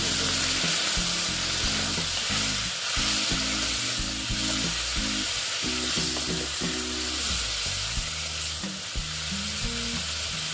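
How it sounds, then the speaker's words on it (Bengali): Hot water is poured into frying bitter gourd, setting off a loud, continuous sizzle that fills the whole stretch while music plays underneath. "দেখো আমি জল অ্যাড করলাম, তাও গরম জল দিয়েছি।"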